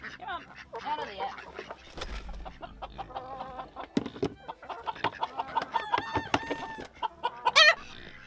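Chickens cluck and squawk busily up close, with a lively mix of bird calls and a few loud cries, and a person talks briefly among them.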